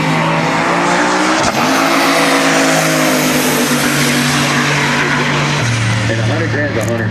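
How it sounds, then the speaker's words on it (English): Single turbo small block Ford powered Fox body drag car launching at a heads-up eighth-mile pro mod race, a loud sustained engine roar with tire squeal and rising pitch, under a commentator's voice. "Chris Duaray with his single turbo small block Ford powered Fox body"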